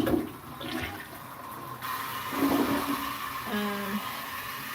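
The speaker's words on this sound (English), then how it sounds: "So now I guess it's time to flush." A freshly cleaned household toilet flushes with a loud, sustained rush and swirl of water that fills the whole clip, close by and fairly steady.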